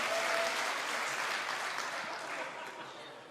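A live esports crowd applauds steadily at a StarCraft 2 WCS Premier League semifinal, a loud, dense wash of clapping that fades slightly toward the end.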